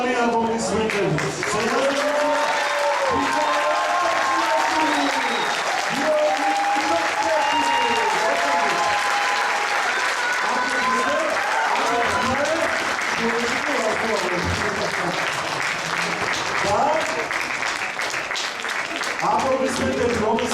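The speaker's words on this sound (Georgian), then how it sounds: "Ახლა კი ძალიან ხმამაღალი აპლოდისმენტები." Loud, sustained audience applause at an emigrant choreographic ensemble's solo concert in Stockholm, steady clapping filling the hall while a voice speaks over it at length.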